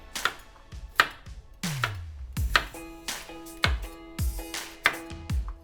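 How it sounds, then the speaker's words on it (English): A knife chops carrots into thick rounds on a board, crisp repeated thuds at an uneven steady pace, each followed by a brief ringing ping, close and clear with no talk. "So I'm just going to chop the carrots up into rounds"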